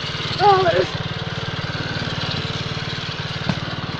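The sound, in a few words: Chinese-made engine running on Honda Monkey motorbike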